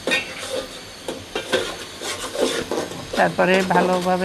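Turmeric and spices are stirred in a cooking pan for chicken cooked with papaya, giving a repeated scraping and rasping of the spoon against the pan. The stirring is close and continuous, and someone talks over it.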